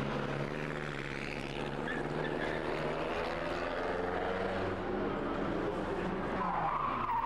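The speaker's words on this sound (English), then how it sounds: "locking a wheel into Racasse" A pre-1961 historic Grand Prix race car, the Lotus 16, locks a wheel braking into Rascasse at Monaco during practice, a loud tyre screech blending with a dense, roaring engine note heard close and continuous.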